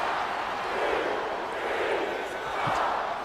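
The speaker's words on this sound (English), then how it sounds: "you can hear the crowd chanting. They're counting along" Wrestling crowd in an arena chants and counts along in a loud, steady roar, a dense wash of many voices with a faint commentator voice underneath.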